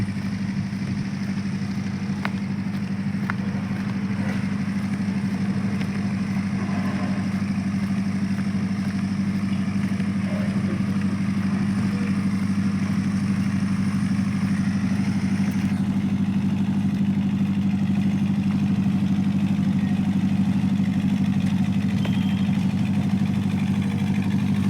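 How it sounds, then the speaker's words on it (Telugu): A generator engine runs steadily at a road-work site where asphalt is being heated, giving an unbroken mid-pitched drone with light mechanical clatter that holds at an even level for about 25 seconds, with no one talking. "ఇక్కడ జనరేటర్ ఉంది, ఆ జనరేటర్ కూడా పవర్ కావాలి."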